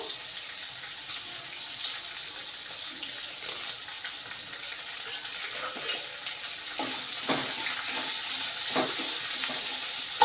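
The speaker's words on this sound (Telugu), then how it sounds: "ఇవి బ్రౌన్ కలర్ వచ్చినంత వరకు వేయించుకోవాలి" Curry leaves and about three onions frying in a pan for rice upma, a steady soft sizzle with occasional stirring scrapes and light clicks, no talking.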